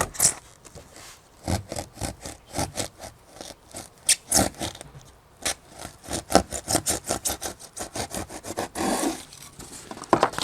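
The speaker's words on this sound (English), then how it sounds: "then use the hacksaw blade I really like using the hacksaw blade" Rapid back-and-forth strokes of a hacksaw blade cutting a model railroad accessory piece, a steady close rasping rhythm with brief pauses.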